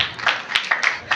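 A congregation claps hands at a new moon prayer service, a loose run of sharp claps landing in quick irregular bursts, close and moderately loud with no steady rhythm.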